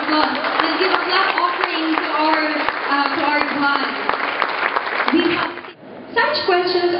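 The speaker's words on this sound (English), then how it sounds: "let's give a round of applause" Audience applause at a graduation ceremony: dense, steady clapping from a large crowd filling the hall, briefly dipping before resuming loudly.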